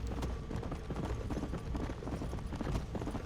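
Horse hooves clip-clop steadily in the Red Dead Redemption Undead Nightmare video game, a continuous quick rhythmic trot at close range with no talk over it.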